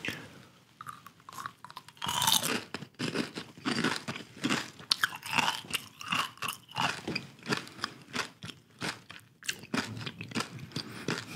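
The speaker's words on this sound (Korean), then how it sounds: "보라색 한번 먹어보겠습니다" A purple snack is chewed close to the microphone in an eating ASMR setting, with steady crisp crunching and repeated bites in an uneven rhythm.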